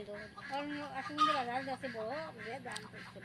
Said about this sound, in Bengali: রে তো সুন্দর লাগে মুরগি দেখতে